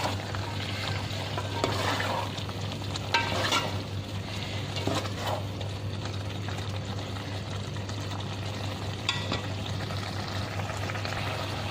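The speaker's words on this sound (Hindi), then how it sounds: "अब 1 मिनट हम गोश्त के साथ भिंडी को मसाले के साथ फ्राई कर लेंगे" Okra stir-fried with mutton and spices in a pan makes a soft, steady sizzle over a low constant hum, with occasional faint scrapes of stirring and no speech.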